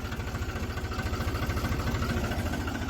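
A tractor engine with a trolley attached chugs steadily nearby, a loud low rhythmic idle with a throbbing pulse and no voices.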